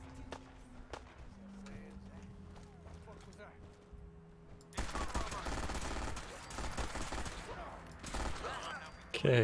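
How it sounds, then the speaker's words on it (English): A rapid-firing rifle in Fallout 4 rattles off a dense burst of shots in the second half, loud and continuous, after a quieter stretch of game ambience with faint speech underneath. "the sound of this rifle is weird. Sounds like it's firing rounds every split second"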